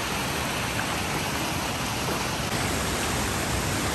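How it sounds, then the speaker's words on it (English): Rushing river water and a waterfall in Tallulah Gorge make a steady, dense broadband roar, constant and fairly close, with no voices over it. "We're gonna cross this rock bridge over the running river. There's the waterfall"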